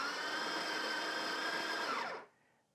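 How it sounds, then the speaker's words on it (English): A Barista Touch Impress espresso machine grinds coffee beans with a loud, steady whirring hum that runs for about two seconds and then winds down and stops. Nothing else is heard. "Just touch the icon and it'll grind a little bit more."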